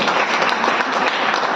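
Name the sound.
applause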